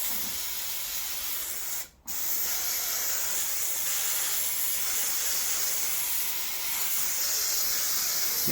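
Glue sprayed onto the underside of a Land Rover Defender 130 TD5 headliner, a loud, steady, close hiss that breaks off once for a moment and then carries on evenly, with no talking.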